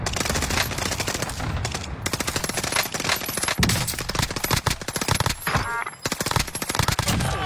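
Video game gunfire: dense, loud bursts of rapid automatic fire crackle almost continuously, broken by a few brief pauses and sharp single shots.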